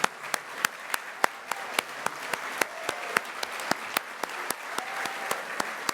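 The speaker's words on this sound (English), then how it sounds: "Let's give a big ovation to them." Sustained audience applause at the Blossom Ball 2025 gala as the crowd stands for women with endometriosis, a dense steady wash of clapping with sharp, louder individual claps popping out at a regular pace throughout.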